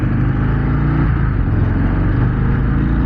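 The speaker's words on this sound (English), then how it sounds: "I love the way these sound, man. There's nothing in this world that sounds better." A 2024 Harley-Davidson Breakout 117 motorcycle engine running loud and close, a deep continuous V-twin rumble held steady at high revs for the whole stretch, with no talking.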